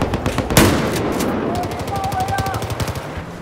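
Rapid automatic gunfire from Battlefield 4 Conquest Large on the Siege of Shanghai map, dense bursts of machine-gun fire with a loud shot near the start, continuing rhythmically throughout amid busy battlefield noise and faint tones.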